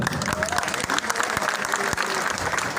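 Crowd at a workers' union rally for a charter of demands, clapping steadily and densely throughout, with a voice speaking over the applause.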